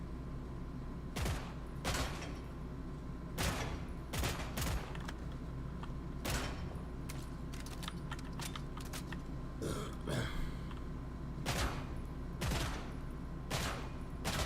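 Gunfire at a shooting range in the video game Killing Floor 3: a string of sharp, punchy shots spaced irregularly, some in quick pairs or bursts, over a low steady game ambience.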